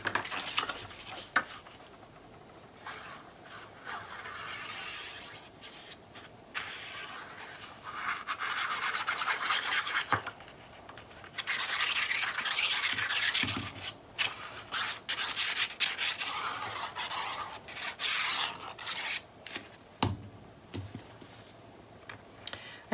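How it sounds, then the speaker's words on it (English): A pick tool burnishes tape on a paper craft mini album page, making soft scratchy rubbing strokes in uneven bursts with brief pauses and a few light taps, close and quiet. "I'm going to burnish the tape around it real quick."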